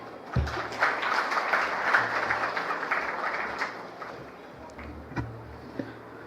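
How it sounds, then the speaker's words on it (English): A large audience applauds to open an Amazon Ads Prime Day Summit business event, a steady wash of clapping at moderate level with a few louder thumps and no voices over it. "So with a huge round of applause, let's get started with today's event"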